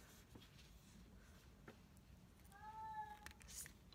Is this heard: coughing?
no